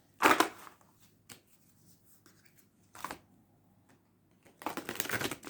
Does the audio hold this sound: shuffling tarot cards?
yes